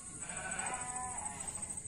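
Sheep bleat on a small farm near Samarinda, with one drawn-out, wavering bleat at moderate distance over a steady high insect-like drone and faint outdoor background.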